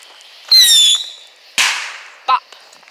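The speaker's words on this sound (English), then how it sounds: "just gonna shoot off a bottle rocket, whistlers" Small bottle rocket whistler fireworks shot off outdoors: a loud rising whistle, then a sharp bang and a second brief pop, each close and ringing out in open air.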